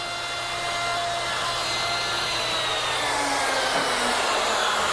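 Hand router making a cleanup pass through a mortise in wood, cut with a template, producing a steady, loud high-pitched motor whine with cutting noise throughout, no talking.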